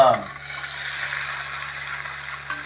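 Garlic sizzling steadily in a hot pan while cooking Nashik-style misal pav, with a continuous close hiss and no voices.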